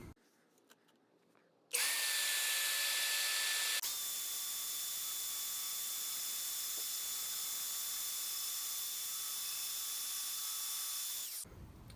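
A portable bandsaw starts up and whines loudly while cutting a wooden cross piece freehand, its steady blade drone holding for about ten seconds before it shuts off abruptly into quiet.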